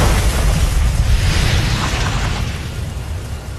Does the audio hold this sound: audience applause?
no